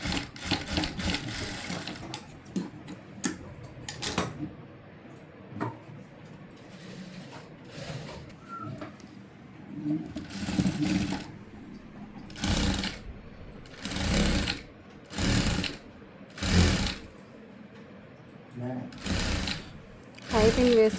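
A sewing machine stitches piping onto the back of a cutwork blouse in a series of loud, close bursts of rapid stitching separated by short pauses, with a voice talking during the quieter opening stretch.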